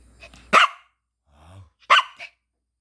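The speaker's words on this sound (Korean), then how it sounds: "짖지 마라. 짖지들 마라, 씨." Dogs bark in two sharp, close, loud outbursts separated by a low growl, with silence between them.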